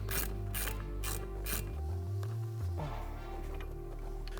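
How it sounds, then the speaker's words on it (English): Ratchet clicking as the upper and lower ball joint nuts are tightened on a 2010-2014 Ford F-150 Raptor during a 4.5-inch suspension lift, a quick run of close ratcheting strokes followed by steady mechanical clatter. "tighten down the upper ball joint and the lower ball joint"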